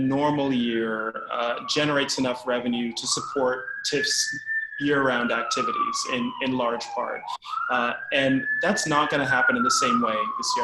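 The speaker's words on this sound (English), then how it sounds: "Apologies for the siren, we're in the middle of downtown Toronto." A wailing emergency siren on a downtown Toronto street, rising and falling in long sweeps that carry on steadily beneath a person talking throughout.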